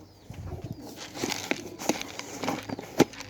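A pigeon flutters up into the air, a few soft wing flaps and rustles over faint background noise, with one sharper burst near the end; no one speaks.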